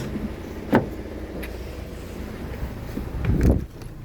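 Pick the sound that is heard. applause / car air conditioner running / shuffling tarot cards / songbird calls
car air conditioner running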